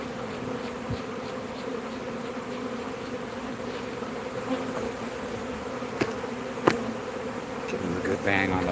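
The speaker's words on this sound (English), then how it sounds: "It's an amazing amount of bees, 3 pounds." Roughly three pounds of swarming honeybees hum in a thick, constant buzz, with a few sharp knocks and bumps breaking through near the end.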